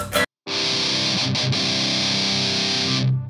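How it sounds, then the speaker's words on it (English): Electric guitar played through a Digitech DF-7 Distortion Factory pedal, a short pick strike then a loud, sustained, heavily saturated chord ringing for nearly three seconds before cutting off. "Let me turn off the Metal Zone and turn on the Distortion"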